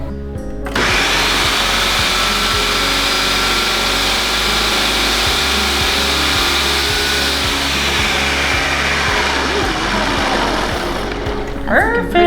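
A food processor grinds lemon bar crust into coarse crumbs in a steady, loud motor whir. It runs almost without a break for about ten seconds, then a voice comes in briefly at the end.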